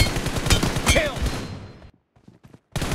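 Automatic gunfire rattles hard and close in a PUBG Mobile team deathmatch, a rapid burst lasting under two seconds, then near silence with faint pops before another shot cuts in.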